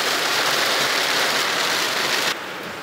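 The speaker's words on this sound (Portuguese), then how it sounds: "Aqui já o asfalto, a chuva continua." Heavy rain pours onto an asphalt road near Brasília during a storm, a loud continuous broadband hiss with a faint engine undertone, dropping abruptly in level near the end.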